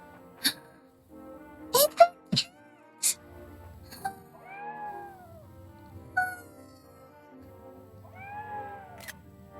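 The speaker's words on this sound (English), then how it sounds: "We have a cat." A cat meows in the video game Triangle Strategy, several short rising-falling mews spread out over the stretch, soft and close, mixed with sharp clicks and a few brief noisy bursts.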